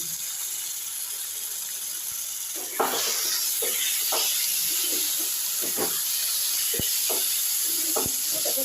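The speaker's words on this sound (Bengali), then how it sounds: "শাকটাকে ভালো করে ভাজতে হবে অনেকক্ষণ ধরে ভাজতে হবে" Kochu saag greens fry in a pan with a steady close hiss, broken by scattered pops and crackles and occasional scraping stirs.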